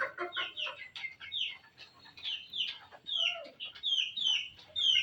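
Fayoumi roosters cluck and chatter in a flock, giving a run of short, bright, overlapping calls at moderate distance that rise and fall in bursts with quiet gaps between them.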